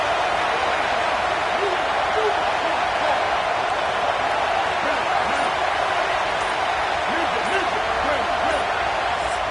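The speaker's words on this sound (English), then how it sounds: "The roar of the crowd trying to fuel this defense to keep them pinned in their own end" A loud, sustained roar from a packed stadium crowd at a Tennessee Volunteers football game fills the whole stretch, a dense, steady wash of cheering with no gaps.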